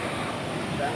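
Floodwater from a typhoon rushes past in a dense, continuous roar and wash for about a second, loud and close, with wind noise mixed in.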